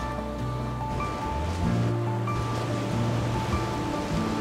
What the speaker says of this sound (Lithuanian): Pažiūrėk, kokios čia bangos didelės.